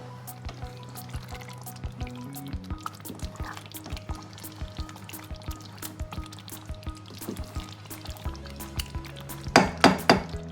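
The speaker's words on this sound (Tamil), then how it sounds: "இப்போது கொஞ்சம் தண்ணி ஊற்றணும்." Water poured into a pot of white chicken biryani on the stove, a steady low pouring stream with small drips and a few metal clinks of the pot, ending in a louder burst of splashing.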